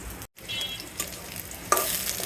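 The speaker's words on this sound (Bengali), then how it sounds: "একটা শুকনো মরিচ আর পেঁয়াজটা ভেজে নিতেছি।" A dried chili and onion fry in a pan for a breakfast of broken rice, giving a close, steady sizzle with a brief dropout near the start and a louder burst of frying toward the end.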